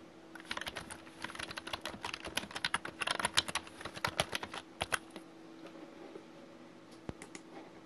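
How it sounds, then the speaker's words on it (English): Rapid typing on a computer keyboard, a dense run of close, crisp key clicks in irregular bursts that thins out toward the end with a few isolated taps, heard alone without any voices. "Now let's go and type our second chapter's"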